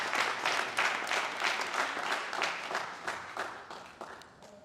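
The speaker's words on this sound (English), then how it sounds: "2026 Hall of Fame inductees a well-deserved round of applause" An audience applauds Hall of Fame inductees with a full, dense round of clapping that holds steady and then gradually tapers off near the end, without talk over it.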